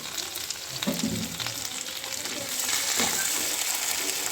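Sliced green chillies and tomato frying in a pan with beans, with a steady close sizzle that swells louder toward the end, with occasional stirring scrapes.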